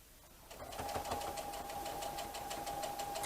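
A sewing machine stitches a child's apron seam at a 2.5 stitch length. It starts up after a brief pause and runs as a steady, fast, close whirring hum.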